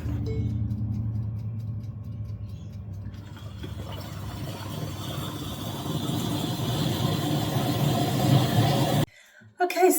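A kitchen blender running at speed 8 whirs tomato pasta sauce in a continuous loud mechanical roar and churn that builds in intensity over several seconds, then cuts off abruptly near the end.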